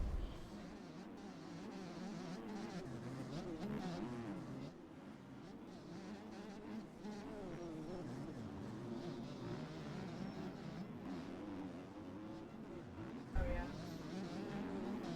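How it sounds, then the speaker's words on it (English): A two-stroke motocross bike races hard at a TTMX outdoor nationals round, its buzzing engine revving and wavering continuously under a commentator's steady talk. "Dirty is making that two-stroke work as hard as it possibly can."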